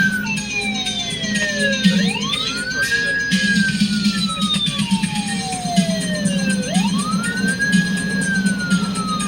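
Police car siren wailing, repeated rising and falling sweeps cycling steadily and loudly over a low engine hum, with no talking.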